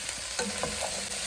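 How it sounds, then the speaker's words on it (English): Vegetables with garlic and green onion fry in a pan while being stirred, a close, continuous sizzle with soft scraping strokes across a brief moment. "I'm gonna go ahead and add the rest of the veg and give this a little stir"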